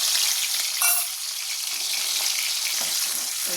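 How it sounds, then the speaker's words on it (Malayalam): Finely chopped garlic frying in plenty of hot oil for a banana and date pickle, a steady close crackling sizzle that continues throughout without talk. "നമുക്കിതിനകത്തോട്ടൊരു 5-8 വെളുത്തുള്ളി ചെറുതായിട്ട് അരിഞ്ഞിട്ട് കൊടുക്കാം."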